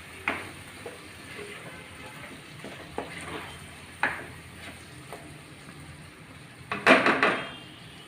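A spoon stirs bitter gourd tamarind curry (kakarakaya pulusu) in a pot over a low simmering sizzle. Soft scrapes and taps recur irregularly, ending in a louder scraping burst near the end, with no voices.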